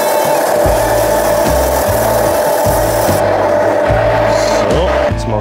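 Grinding or sanding a moped cylinder round while tuning a Sachs moped engine for compression, a steady close abrasive rasp with rhythmic low pulses running continuously throughout.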